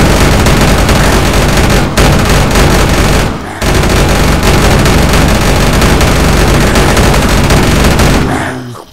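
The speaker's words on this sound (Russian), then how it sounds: "Надеюсь, из-за звука минигана меня не было не слышно." A minigun in Unturned fires continuous, very loud streams of rapid shots, pausing briefly twice before the long burst trails off at the end.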